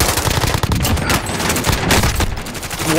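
Rapid automatic gunfire from Call of Duty: Modern Warfare, a dense, loud burst of overlapping shots filling the whole moment with no talking.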